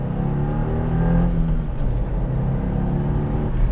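A 2024 Subaru WRX turbocharged engine hums steadily under load while driving, a close, continuous drone with slowly shifting pitch and no sharp rev spikes, heard alone without talk.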